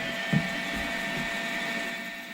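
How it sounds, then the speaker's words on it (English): A drill bores into a part for a scratch-built horizontal model steam engine, a steady whirring machine drone with a brief knock near the start, close and continuous. "Let's see if I got that drill bit in straight."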